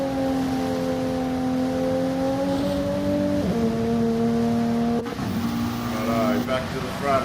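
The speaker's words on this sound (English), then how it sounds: "You can hear Penny just drifting through the corner." A GR4 race car in a racing video game drifts through a corner, its engine holding a steady tone that dips as it slides, under continuous race commentary.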